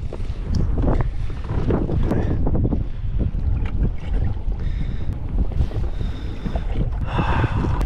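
Strong gusty wind over open water on the California Delta during a bass fishing tournament, loud rumbling buffeting against the microphone that surges and eases in waves, with no talking.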